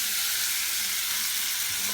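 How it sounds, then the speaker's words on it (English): Steady, loud broadband sizzle of noodles frying in a hot pan for shrimp scampi, a continuous hiss filling the whole stretch with no talk. "Now you're going to add your noodles."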